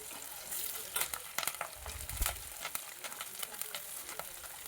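Shallots and green chillies sauté in a pan for a Kerala-style fish curry, with a steady crackling sizzle and repeated scraping strokes of a stirring spoon, close and fairly loud.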